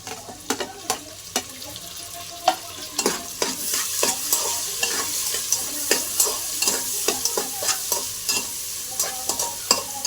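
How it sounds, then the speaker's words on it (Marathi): Tomatoes go into onions frying for biryani, and the pan sizzles steadily under a run of loud, rhythmic spoon scrapes and knocks up close. "कांदा लाल झाला, आता आपण टमाटे टाकून घेऊ."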